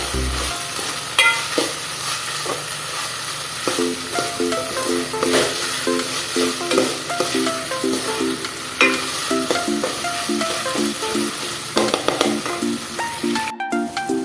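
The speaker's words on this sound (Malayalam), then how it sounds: "നമുക്ക് നന്നായിട്ട് മിക്സ് ചെയ്ത് കൊടുക്കാം." Onion, green chili and ginger garlic paste being stirred in a pan for a Kerala-style chicken curry, with repeated scraping strokes over a continuous sizzle, close and busy, no talking.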